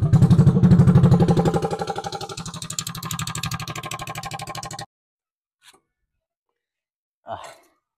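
A Yamaha Nmax scooter with a replacement 13T+33T gear set revs on a test ride, its engine note pulsing rapidly and dropping in pitch before cutting out, followed by a couple of faint knocks.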